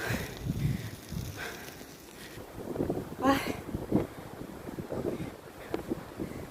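Strong, cold wind buffets the microphone during an outdoor bicycle ride for exercise abroad, a continuous rumbling roar with gusty swells, while a voice talks intermittently underneath.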